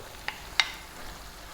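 Fresh ripe tomatoes drop into a pan of lamb stew: two quick soft plops about a third of a second apart over a faint, low sizzle.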